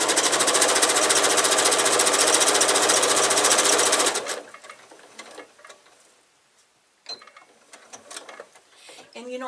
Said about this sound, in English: Now I'm turning it, back stitching.